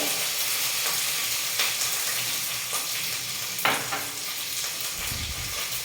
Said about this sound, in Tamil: எண்ணெய் வந்து காஞ்சிட்டு இருக்கு கடுகு போட்டுக்கிறேன் கடுகு பிடிக்கிறது